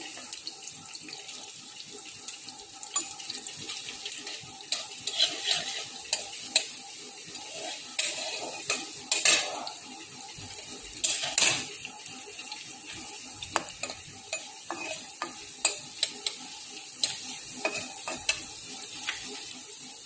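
Onions and carrots fry in a pan while being stirred, a steady close sizzle broken by repeated scraping and clinking stirs at an uneven rhythm, with no talking.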